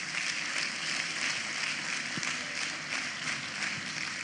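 Audience at a university inaugural lecture claps in steady, continuous applause, a dense wash of many hands heard from a moderate distance without any voices.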